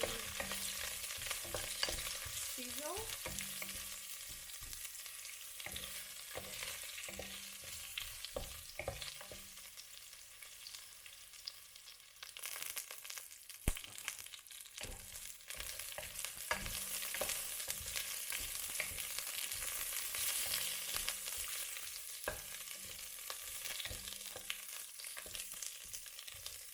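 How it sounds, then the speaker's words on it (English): Aromatics for a dumpling soup sizzle steadily in a pot, a constant bright hiss with crackles. Soft scraping and stirring clinks recur throughout, close and fairly quiet. "our aromatics is starting to sizzle"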